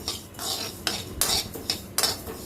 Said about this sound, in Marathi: आता मी हा चमचा काढून ठेवते